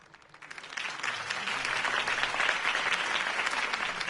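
Applause in the video game Batman: The Telltale Series swells from quiet to a steady, dense clapping from a crowd, sustained and moderately distant.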